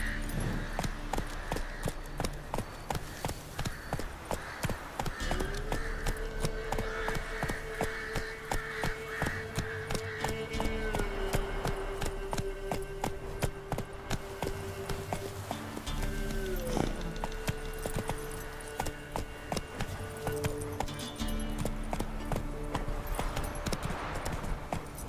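Roach, a horse in The Witcher 3, gallops with continuous rhythmic clip-clop hoofbeats, close and steady, under a layer of game music or ambience.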